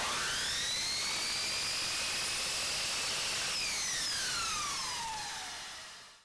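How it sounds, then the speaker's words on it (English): A miter saw whines at high speed through polyurethane crown molding at a 22½-degree angle, its pitch dropping as the blade spins down and fades to silence over about six seconds. "slide our miter saw to the right 22½ degree angle and cut off our transition piece"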